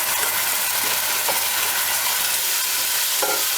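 Tomatoes, a mix of fresh and tinned, being stirred into a frying spiced onion mixture for a rustic Rajasthani chicken curry, with a steady loud sizzle and occasional soft scrape of the spoon throughout, no talking.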